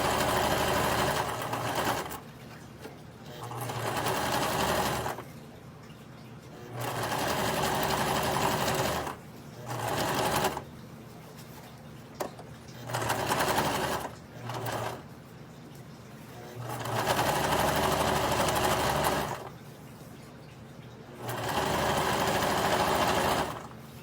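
A sewing machine stitches book bag fabric in several sustained whirring runs of a few seconds each, broken by short pauses, loud and close with a steady rapid needle rhythm.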